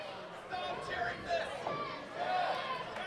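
A wrestling arena crowd keeps up a steady roar of chatter and cheering throughout, with a commentator's voice talking over it.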